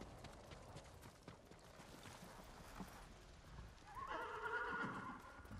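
A horse whinnies clearly near the end in the video game Ghost of Tsushima. Soft hoof clops and quiet background ambience come before it.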